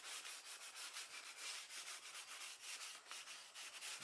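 Sandpaper rubs back and forth across a 1996 Mustang spoiler being prepped for repaint, making quiet, rhythmic scratchy strokes in steady repetition with no talking.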